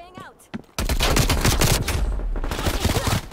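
Video game gunfire erupts after a short stretch of voice, with rapid, loud bursts of shots packed into a dense, continuous barrage that fades slightly toward the end.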